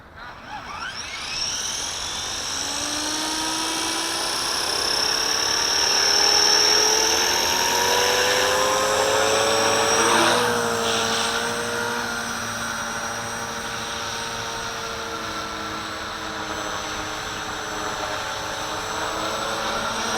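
A Quick Flight V450D01 remote-control helicopter hovers in high wind, its steady high-pitched rotor and motor whine running continuously and fairly loud for the whole stretch, swelling slightly midway as the pitch shifts.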